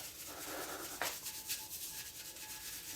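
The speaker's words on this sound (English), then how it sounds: "give it a scrub, and then slowly you'll see it removes, starts removing some of the tarnish" Soft, quiet rubbing of a cloth or pad scrubbing tarnish off antique French copper, with a few faint strokes and brief scraping accents.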